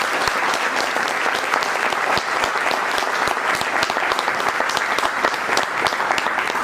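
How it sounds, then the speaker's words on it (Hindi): An audience claps steadily throughout at a hosted talk event, dense continuous applause from many hands at even loudness with no voices standing out. "इस बात के लिए ताली होना चाहिए।"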